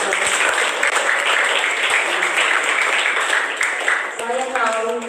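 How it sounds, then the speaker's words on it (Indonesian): Seminar audience of new alumni applauding together in a hall, dense sustained clapping throughout, with a voice briefly speaking near the end. "Boleh tepuk tangan dulu."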